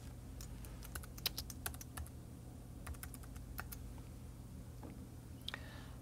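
A computer keyboard being typed on as a folder name is entered: quick clusters of close, light key clicks over a low steady hum, pausing after a few bursts, with a couple of scattered taps near the end.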